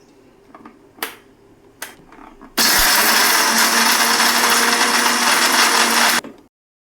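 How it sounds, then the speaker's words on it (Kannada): A few sharp clicks of a mixer grinder jar being set in place come first, then the motor bursts into a loud, steady whirring roar, grinding roasted coconut into chutney powder for several seconds before cutting off and winding down. "ಇವಾಗ ಇದನ್ನು ಒಂದು ಮಿಕ್ಸಿ ಜಾರಿಗೆ ಹಾಕ್ಬಿಟ್ಟು ಎಲ್ಲನೂ ಪುಡಿ"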